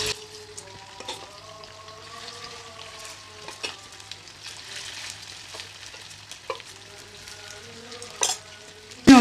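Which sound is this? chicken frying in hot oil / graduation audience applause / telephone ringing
chicken frying in hot oil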